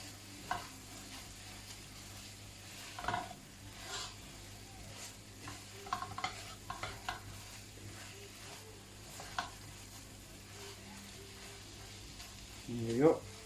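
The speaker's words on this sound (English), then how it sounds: "So give that a good stir around." Beef fries in a pan with a faint sizzle as it is stirred, soft scraping and a few clicks rising occasionally through the quiet background, with speech nearby.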